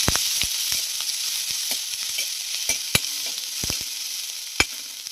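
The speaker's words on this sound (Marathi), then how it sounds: "1 चमचा जिरे, थोडं हिंग, चिरलेल्या मिरच्या। आता याचा परतून घेऊया।" Cumin, asafoetida and chopped green chillies fry in hot oil with mustard seeds for a sweet-sour chilli relish, giving a steady close sizzle peppered with sharp, irregular crackles and pops; no speech.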